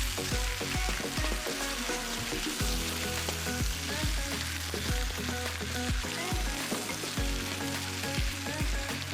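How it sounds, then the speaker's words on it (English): Beef and broccoli stir-fry in hot oil, giving a dense, continuous loud sizzle and crackle, with repeated clattering as the pan is stirred; no one speaks. "you want to stir it around so that the oil, which is nice and hot, gets on everything"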